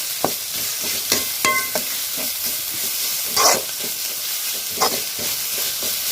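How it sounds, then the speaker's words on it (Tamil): Vegetables sauté in a pan for paneer fried rice, a close, bright sizzle punctuated by several sharp spatula scrapes and clinks. "ஒரு 5 நிமிஷம் நல்லா வதங்கட்டும்."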